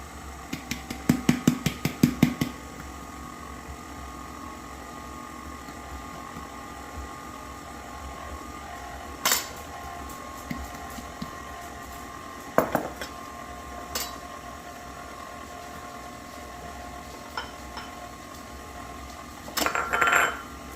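An electric mixer runs on low through banana cake batter, giving a steady motor hum for the whole stretch. A cluster of sharp clinks and knocks opens it, and a few scattered taps follow later.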